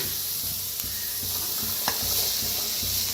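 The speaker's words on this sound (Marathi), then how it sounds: "आता कांदा चांगला भाजत आलेला आहे" Chopped onion and green chilli frying in a pan, a continuous close hiss of oil with a few faint spatula scrapes breaking through now and then, no voices.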